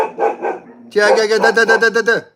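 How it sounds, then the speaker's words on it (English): Several dogs bark close by and loud, first a few softer yips and then a quick run of about eight sharp, evenly spaced barks. "I get too many dogs."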